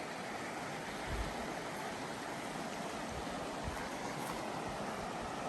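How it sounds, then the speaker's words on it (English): River flowing beside a campsite in Grandjean, Idaho, a continuous broadband rush of water that stays steady and fairly quiet throughout, with occasional soft low thumps and no voices. "You're right on the river."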